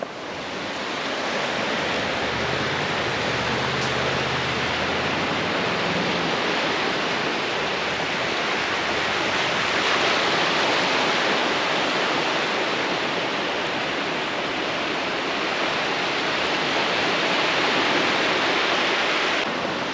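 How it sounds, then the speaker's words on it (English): Steady, loud rush of water, continuous and broadband like surf or pouring water, filling the whole stretch without a break and with no voices. "Here's a shot of the water."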